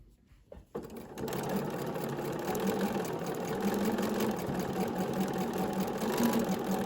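A sewing machine stitching a quilt block for a sawblade star variation: after a brief quiet start, a steady, even whirring hum runs continuously at moderate, close volume.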